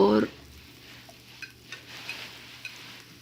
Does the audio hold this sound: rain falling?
no